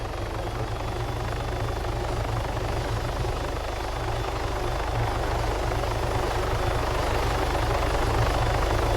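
Helicopter in the video game Arma 3 as a steady, loud rotor and engine roar that runs unbroken throughout, heard from inside the aircraft with no talking over it.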